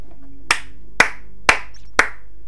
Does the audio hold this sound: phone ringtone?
no